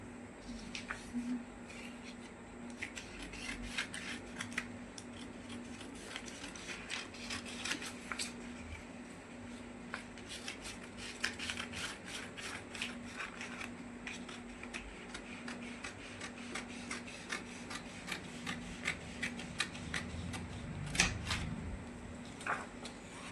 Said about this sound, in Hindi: अब हम इसकी कटिंग करते हैं।